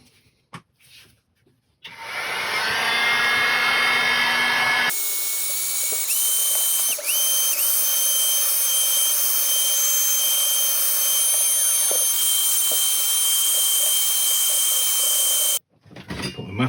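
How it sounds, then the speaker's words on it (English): A heat gun blows on a resin inlay in a willow woodturning piece, starting with a loud steady whoosh, shifting pitch partway, then running on evenly for over ten seconds before cutting off. "I'm just going to hit it with a heat gun."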